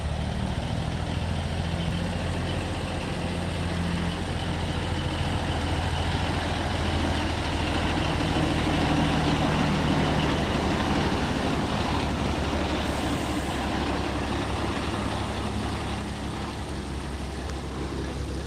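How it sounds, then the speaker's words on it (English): An old needle-nose Peterbilt truck approaches on the road, its steady engine rumble loud and continuous throughout with no talking. "Look at this thing coming down the pike. Old needle nose Peterbilt."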